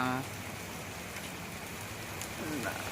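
Heavy rain pours steadily outdoors near an agricultural market, a dense continuous hiss close by, with a brief voice at the very start and another faint voice near the end.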